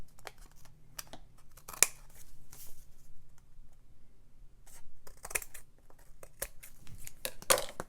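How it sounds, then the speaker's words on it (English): Scissors trimming the paper edges of a handmade three-pocket folder, a series of crisp close snips and paper rustles in irregular bursts with quiet gaps between, no talk. "After burnishing it well, I'll trim the edges."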